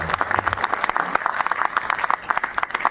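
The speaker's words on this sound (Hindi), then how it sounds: "इन सब के लिए जोरदार तालियां बजा करके" Dense, continuous applause from an audience at a Congress political gathering in Timarni, many hands clapping at once with a steady, crackling texture and no voices.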